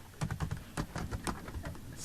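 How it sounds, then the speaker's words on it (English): Rapid keystrokes on a computer keyboard as a web address is typed, a quick irregular patter of soft clicks, close and quiet. "I'm going to type in the URL here"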